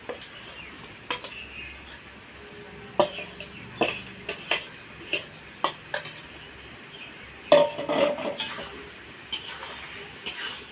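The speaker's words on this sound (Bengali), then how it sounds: "এবার আমি বাঁধাকপি দিয়ে কষিয়ে নেব ভালো করে।" Cabbage and prawns frying in a pan, with a low sizzle under repeated clinks and scrapes of a spatula stirring, in irregular bursts close up. No one speaks.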